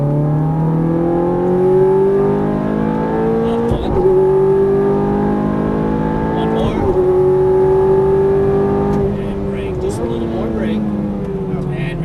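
A Ferrari F430 or Nissan GTR sports car engine pulls hard on a racetrack, its loud, steady in-car drone rising in pitch through gears with brief dips at each shift, while someone speaks over it.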